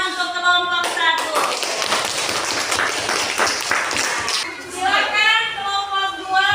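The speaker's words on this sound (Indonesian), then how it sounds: "Tepuk tangan untuk kelompok 1." A small group of students claps in a classroom during a teacher's performance lesson, a short burst of hand clapping mixed with talking voices, fairly close and loud.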